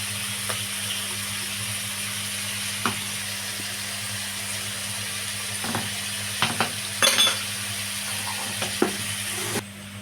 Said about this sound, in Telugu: ఇప్పుడైతే ఇందులో అల్లం పేస్ట్ వేద్దాం